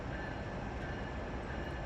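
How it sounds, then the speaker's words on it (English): A northbound manifest freight train headed for a Chicago yard rumbles past as steady, broadband noise, continuous and fairly distant with no voices. "This train here is northbound manifest M6 for clearing yard in Chicago."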